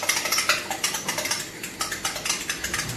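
Eggs being whisked for an omelette give a quick, steady run of light metallic clicks and taps against a bowl, close and fairly quiet, with no voices.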